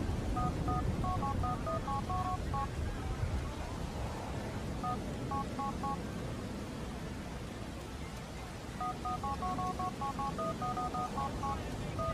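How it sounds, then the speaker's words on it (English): Touch-tone keypad beeps from a phone in the GTA video game as a cheat code is punched in, two quick bursts of rapid dialing tones separated by a pause, over steady background noise. "How do you just dial?"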